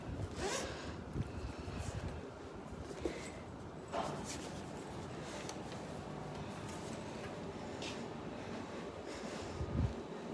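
A clothing or bag zipper is pulled open to get a key at a home entrance, a continuous rasping rip with a few sharper pulls, close to the microphone over light wind noise.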